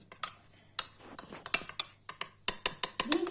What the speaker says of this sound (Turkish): Nişastayı da karışacak kadar çırpıyorum